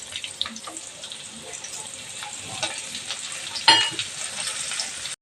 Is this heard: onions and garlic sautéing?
yes